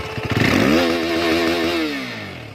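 A motorcycle engine revs up close by, holds a loud, steady roar with its pitch wobbling, then eases back down over a couple of seconds, with no talking.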